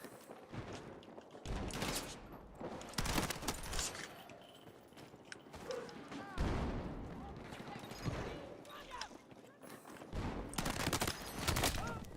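Bursts of rapid gunfire in the Battlefield 6 video game, several loud volleys separated by brief lulls, with a player's voice talking over the chaotic shooting.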